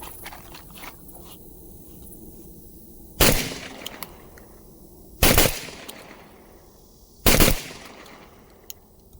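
Three loud, sharp blasts from a Beretta A300 shotgun, spaced about two seconds apart, each with a short ringing tail over a quiet outdoor background.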